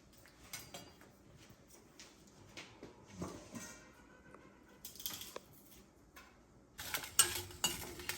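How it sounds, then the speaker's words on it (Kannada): Garlic and dried red chillies frying in a little oil in a home kitchen, with a soft sizzle under repeated clinks and scrapes of a utensil stirring in the pan, plus a few louder clatters near the end. "ಈಗ ಬೆಳ್ಳುಳ್ಳಿ ಮತ್ತು ಒಣಗಿದ ಮೆಣಸಿನ್ಕಾಯಿನ ಫ್ರೈ ಮಾಡ್ಕೊಳ್ತಾ ಇದ್ದೀನಿ"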